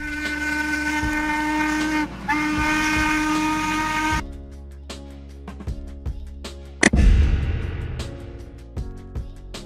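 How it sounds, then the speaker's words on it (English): A steam locomotive sounds its whistle in two long, loud, steady blasts, then gives way to hissing steam, clanking and a sudden burst of escaping steam, heard up close with no talk. "An older type of locomotive that uses steam power to move, historically significant but now rarely used for regular service."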